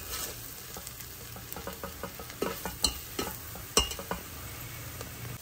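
Mutton kheema fries in a pan while it is stirred, giving a steady sizzle under repeated scraping strokes and taps of the spoon against the pan.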